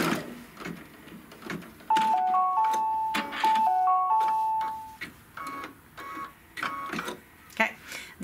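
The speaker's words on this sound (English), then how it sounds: "So now we're going to stitch the strap hole placement line." A sewing machine stitches a small rectangular strap hole placement line on a belt bag, in choppy bursts of mechanical whirring mixed with several short electronic beeps, fairly close.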